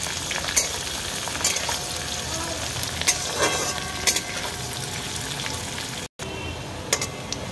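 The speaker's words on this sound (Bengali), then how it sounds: "এটা আমার এবার একটুখানি হালকা করে একটু ভাজবো অল্প" Mixed fried rice ingredients fry lightly in a pan with a steady, close sizzle, broken by a few sharp clicks and scrapes of stirring; no voices.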